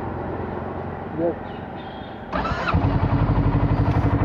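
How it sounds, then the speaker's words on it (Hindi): A 2020 Kawasaki Ninja 650 BS6 motorcycle engine cranks with a short starter whir, then catches and settles into a steady, close, throbbing idle, with a brief voice speaking before it fires. "बाइक को कर रहा हूँ स्टार्ट, ये देखिए ये आई कावासाकी ब्रांडिंग और ये होगी बाइक स्टार्ट"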